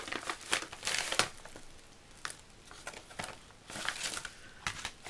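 Paper and packaging crinkle as a parcel and a letter from the mailbox are opened, in quiet, close bursts of crumpling and rustling with short pauses between them.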